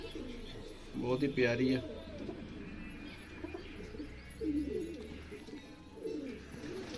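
Badshah-breed pigeons in a home breeding setup coo softly in the background, faint and intermittent, while someone talks over part of it.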